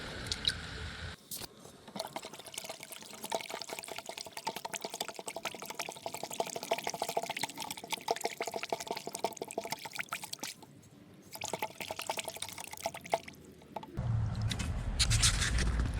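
Calcium nitrate granules poured into potting mix for planting hot peppers: a steady, close, gritty pouring hiss that runs for about twelve seconds, pauses briefly, then resumes, with no talking.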